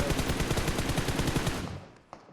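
Rapid automatic gunfire from the PUBG Mobile video game rattles in a dense, loud burst for about a second and a half, then fades, with a single shot near the end.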